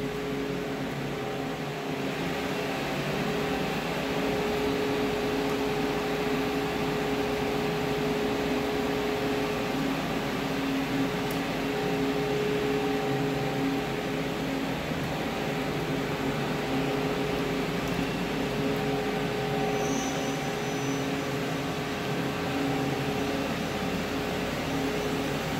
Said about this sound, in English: And now we're going to run the machine for you.